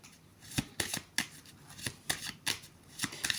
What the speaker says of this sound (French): Je vais tirer 3 cartes.